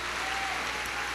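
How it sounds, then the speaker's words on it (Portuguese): A church congregation claps together in steady, dense applause, a brief burst filling the room at moderate loudness. "dá uma salva de palmas, louvando a Deus pela vida dela"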